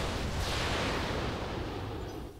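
Volley of LRM missiles launched in the mech combat game RogueTech, a BattleTech mod: a loud, dense rushing roar that fills the whole clip, with a whooshing sweep early on, then tails off slightly at the end.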